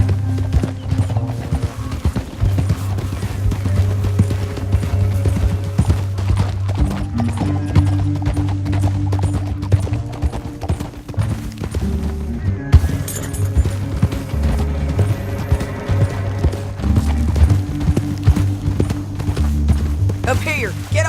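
Horses' hooves clatter in a steady galloping rhythm in the video game Red Dead Redemption 2, loud and close, over a bed of dramatic music with occasional snorts and whinnies.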